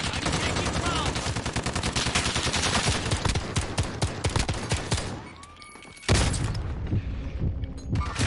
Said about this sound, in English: So I was like shooting at him with my pistol